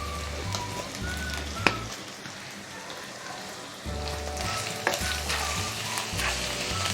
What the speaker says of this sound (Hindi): ठीक, 1 मिनट और थोड़ा फ्राई करेंगे हम